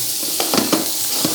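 Chicken and green beans stir-frying in a hot Nuwave induction wok, a steady bright sizzle with a few soft scraping stirs of the food.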